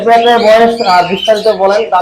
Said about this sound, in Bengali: এখানেও একটি জোড়া দেখছি ভাইয়ের কাছে কোকাডেল